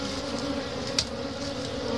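Dense, steady buzzing of many honey bees swarming around a hive being smoked, close and continuous with a brief sharper flick partway through, no talking.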